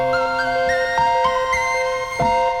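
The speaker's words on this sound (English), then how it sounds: "samples of Woodwind instruments" Layered woodwind tones play a melodic line with sustained notes and soft attacks over a light rhythmic pulse, steady and fairly loud with no voices.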